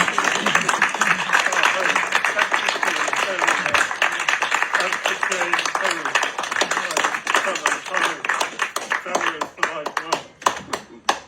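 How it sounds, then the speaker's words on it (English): Scattered clapping from an audience at a poetry reading in a Waterstone's bookshop in Amsterdam, fairly close, with voices talking and murmuring over it throughout. "Applause for Tim too for organising."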